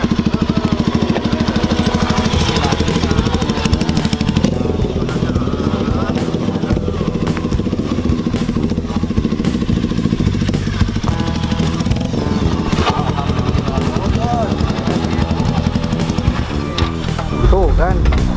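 Motorcycle engine idles and putters nearby on a rural outing by an old river in West Bandung, a steady mid-pitched chug running the whole time beneath ongoing talk.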